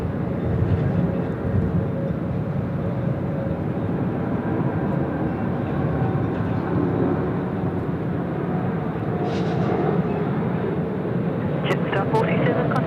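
A Jetstar passenger jet bound for Seoul takes off at Sydney Airport, its engines giving a broad, steady roar that holds loud throughout, with a voice speaking briefly over it.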